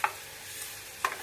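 Fenugreek seeds hitting hot oil for an amla pickle, giving a soft steady sizzle with two sharp clinks of a utensil against the pan, one at the start and one near the end.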